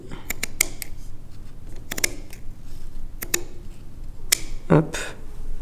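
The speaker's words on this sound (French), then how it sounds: "il va falloir couper les fils de chaîne" Scissors snip through the warp threads on a weaving loom while a fabric sample is finished, giving several sharp, close, isolated clicks spaced across a quiet background.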